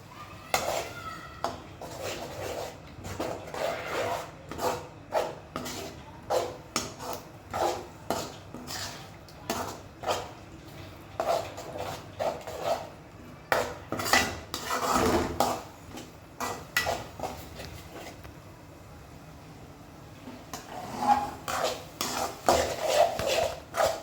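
Eggs being mixed in a pan with a utensil, repeated scraping and clinking strokes in an uneven rhythm with brief pauses, close and moderately loud.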